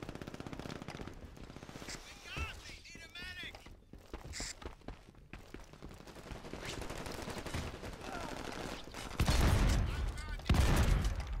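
Gunfire in the video game Brink, with rapid automatic bursts and scattered shots among busy game noise, turning louder and denser toward the end while a voice talks intermittently.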